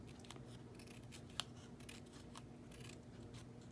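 Scissors snip through craft material in a series of quick, light cuts, very faint and close, with a steady low background hum and no talking.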